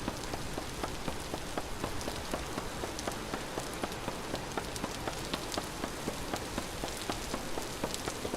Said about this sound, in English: I wasn't lying when I said that the rain is loud in this game.